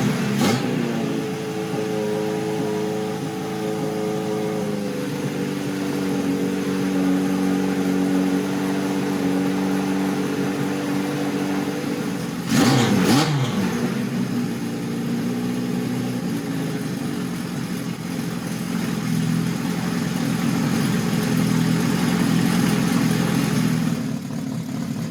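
An old motorcycle engine started on choke, holding a steady mid-pitched run, then a brief sharp rev partway through before settling back into a fast, even idle, loud and close, no talk.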